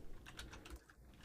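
Quick, light clatter of keys being typed on a computer keyboard while working in screen-recording software, a short burst of soft irregular clicks heard close up and without any talk.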